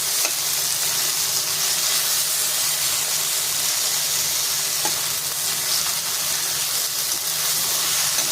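Steady, loud sizzling of onion and okra frying in a pan, a continuous hiss with occasional faint clicks of stirring, no voices.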